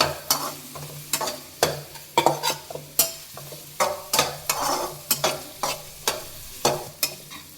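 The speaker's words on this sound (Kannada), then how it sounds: "ಈರುಳ್ಳಿ ಚೆನ್ನಾಗಿ ಫ್ರೈ ಮಾಡ್ಕೋಬೇಕು" Onions fry in a pan for lady finger curry, a spoon stirring them in steady repeated scrapes over a soft continuous sizzle, close and clear with no talking.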